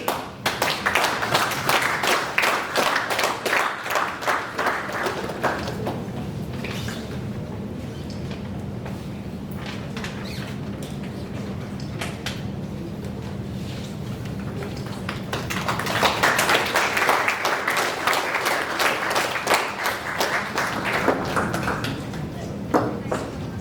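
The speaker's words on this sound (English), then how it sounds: "Please everyone, let us give a biggest round of applause for this angel of reading." An audience at a national reading competition closing ceremony breaks into sustained applause, a dense crowd clapping that dips midway and then swells again, with voices mixed in underneath.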